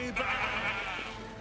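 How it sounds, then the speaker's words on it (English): Sheep in a comedy commercial bleating once in a long wavering cry, fairly close and clear over faint background sound. "That was the sheep."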